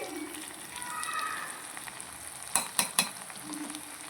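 A spoon stirs chicken curry with chicken masala in a sizzling frying pan, with steady scraping and frying, then a few sharp metallic clinks close together near the end.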